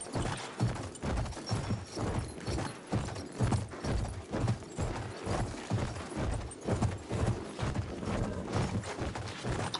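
Rapid rhythmic hoofbeats of a galloping horse in Battlefield 1 pound steadily and close, with a rough, gritty texture and no talking.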